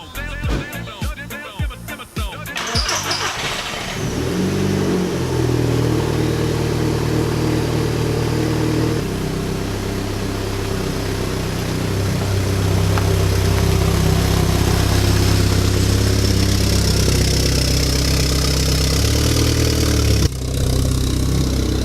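Audi A3 engine running at idle, a steady low mechanical drone after some clattering handling noise at the start, close and fairly loud with no talking.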